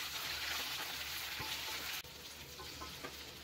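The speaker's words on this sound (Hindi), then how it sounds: "परवल को भी मीडियम टू हाई फ्लेम पर 2 से 3 मिनट फ्राई करेंगे।" Potatoes and pointed gourd fry in oil over a medium-high flame, a steady bright sizzle with occasional stirring scrapes, close and continuous, dipping briefly in level partway through.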